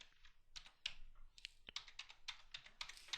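Typing text on a computer keyboard at a desk, a quiet close series of uneven key clicks in quick bursts with brief pauses, no voices.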